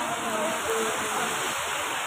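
Rainwater rushes through a street gutter in Udaipur during heavy rain, a steady broadband roar of flowing water, continuous and close, with faint voices underneath.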